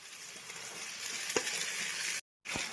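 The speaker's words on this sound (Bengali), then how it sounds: "এখন আমি চিকেনগুলো দিয়ে দিচ্ছি।" Close, steady sizzling and frying as chicken goes into fried masala with tomato in a pan, with a few stirring knocks and a brief cut to silence near the end.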